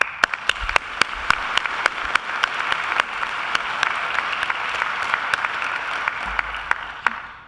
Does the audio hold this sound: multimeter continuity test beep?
no